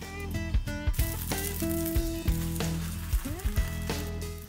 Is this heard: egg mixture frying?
yes